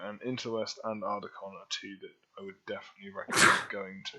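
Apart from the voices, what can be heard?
sneeze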